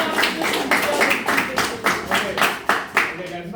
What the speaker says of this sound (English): Enough clap. Too much clap.